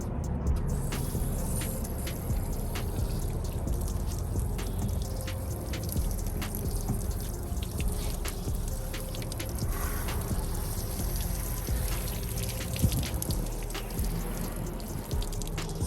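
Water poured onto a car, splashing and trickling steadily over its surface, with scattered drips and a low background rumble throughout.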